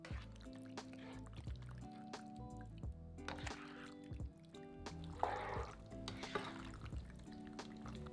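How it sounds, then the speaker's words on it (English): Cooked pasta is stirred through a tomato and salmon sauce in a pan, soft wet squelching and light scraping with small clicks, quiet and steady, with no voices. "Then stir the pasta into the sauce, distributing those pieces of salmon amongst the pasta."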